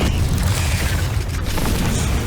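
The Confringo blasting spell in the video game Hogwarts Legacy fires in a catacomb, a loud, continuous low booming blast with crackling burst texture that fills the whole moment.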